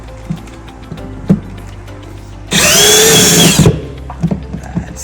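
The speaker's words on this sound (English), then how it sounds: "Now I'm going to drill the rest from inside." Power drill with a hole saw cutting through from inside an RV for a toilet vent, one loud sustained burst of about a second amid quieter clicks and handling noise.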